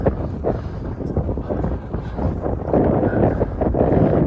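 Strong wind on an open fell walk buffets the microphone, producing loud continuous roaring gusts that swell and ease, with no talk.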